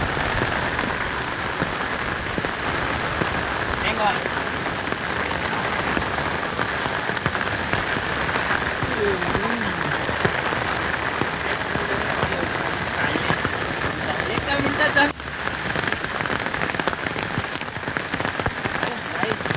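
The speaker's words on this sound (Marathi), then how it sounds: "तुम्ही बघू शकता इथं पाऊस जो पडायला लागला आहे" Steady rain falling on surfaces outdoors, a dense continuous patter holding an even level throughout, with a brief louder knock near the end.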